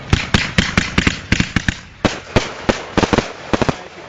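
Fireworks shells launching at an art festival, heard from close by at the firing position: a rapid, irregular run of loud, sharp bangs and thumps, roughly two dozen within a few seconds, with no talking.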